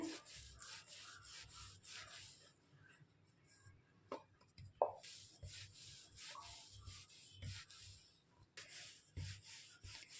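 Shankarpali dough is rolled out with a rolling pin on a greased surface, making soft rhythmic rubbing strokes back and forth, quiet and close, with a brief pause and a couple of light knocks partway through.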